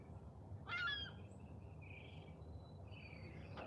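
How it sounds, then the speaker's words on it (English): Flock of big gulls calling overhead outdoors, one loud harsh squawk followed by fainter scattered cries over steady background noise. "I think they're seagulls. They look like gulls."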